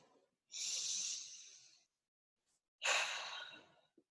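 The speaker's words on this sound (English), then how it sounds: "Deep breath." Two deep, slow breaths during an EFT tapping session, a long breathy inhale followed by a full exhale, close and quiet with a pause between them.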